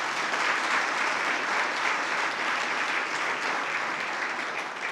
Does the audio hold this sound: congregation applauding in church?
yes